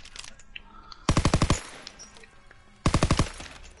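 In Call of Duty WW2, two rapid bursts of automatic gunfire ring out, each about six sharp shots in quick rhythm, loud and close, separated by a short quiet gap.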